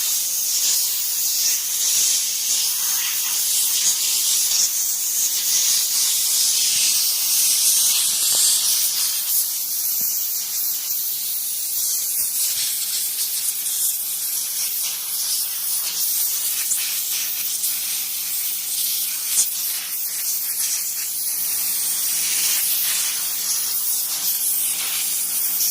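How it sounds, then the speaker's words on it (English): An air compressor nozzle blasts dust out of an Asus gaming desktop, a loud continuous high hiss with slight fluctuations that runs without a break and without talk. "he's using a compressor to blow it out"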